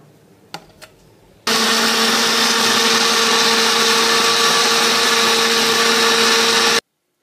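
A kitchen blender grinds fried onions (beresta) with sour yogurt into a paste, a loud steady motor whir running about five seconds after a couple of faint clicks, then stopping abruptly.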